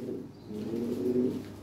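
Several European Lahore pigeons coo continuously in a low, steady, throaty murmur, close by and fairly loud, with no talking.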